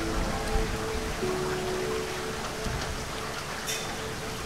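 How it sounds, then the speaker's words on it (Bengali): Steady rain falling at night, a soft, even patter and hiss that holds at one level throughout with no clear voices over it. "বৃষ্টি তো কিছুক্ষণের মধ্যেই বন্ধ হয়ে যাবে।"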